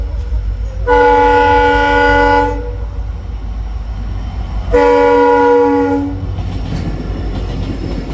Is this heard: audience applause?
no